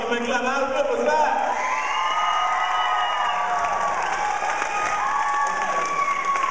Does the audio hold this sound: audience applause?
yes